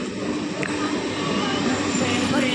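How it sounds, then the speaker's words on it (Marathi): A steady, broad rumble of an arriving train runs throughout, constant and fairly loud with no distinct breaks. "आता आणि ट्रेन आलेली आहे आमची"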